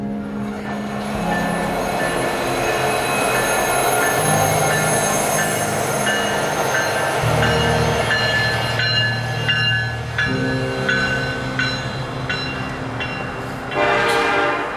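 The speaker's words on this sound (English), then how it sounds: "With this train going uphill and going very slow" A slow freight train climbing uphill rumbles and grinds steadily, with long horn-like tones, wheel squeal, and clanking railcars rolling past close by for the whole stretch.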